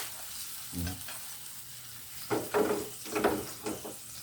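Tomatoes sautéing in a pan, with a steady sizzle and bursts of stirring and scraping that come in quick clusters, close and clear, with no voices.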